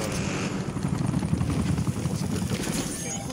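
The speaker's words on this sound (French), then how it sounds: "Déploiement de l'hélico de surveillance autorisé." A surveillance helicopter deployed in the video game Black Ops 6 gives a steady, loud rotor thrum that fills the whole stretch, with game noise layered over it.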